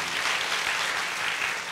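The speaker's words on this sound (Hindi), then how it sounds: "आपकी तालियां बनती हैं इसके लिए" Audience applause for a coaching institute's CEO, a dense, steady wash of many hands clapping continuously at moderate loudness throughout, with no voices breaking through.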